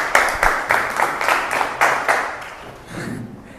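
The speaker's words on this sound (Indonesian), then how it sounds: "tepuk tangan" A small class applauds in a room, with roughly eight distinct rhythmic claps in unison over about two and a half seconds before fading into faint murmuring.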